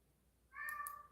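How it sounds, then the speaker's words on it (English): A cat meows twice in quick succession, a clear, fairly close cry with a bright tonal wail that starts sharply and holds for about half a second, alone against a quiet background. "Meow. Meow."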